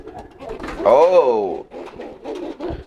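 A pair of domestic pigeons coo nearby, one rising, rolling coo standing out clearly, with softer cooing and murmurs around it.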